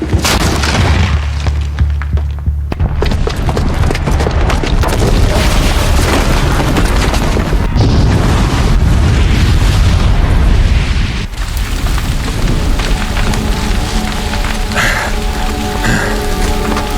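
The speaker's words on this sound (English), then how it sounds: "the booby trap on the bomb downstairs is gonna get set off" A bomb booby trap goes off in the video game Horizon Zero Dawn, giving a loud sustained roar of blast and crumbling debris that rumbles on for many seconds before tailing into quieter game ambience.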